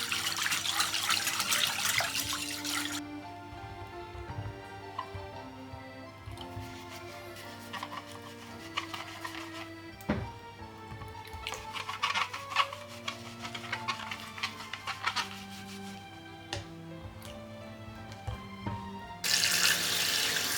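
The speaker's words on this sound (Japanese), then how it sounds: "よく洗ったら水ですすぎます。" Tap water runs over an apple as it is rinsed, heard as short, close splashing bursts at the start and the end. Quiet tonal music plays in between.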